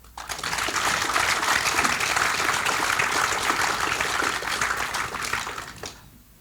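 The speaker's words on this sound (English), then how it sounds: "We have a round of applause." A conference audience at a closing panel gives a loud, dense round of applause, a sustained wash of clapping that swells quickly, holds steady for several seconds and then fades.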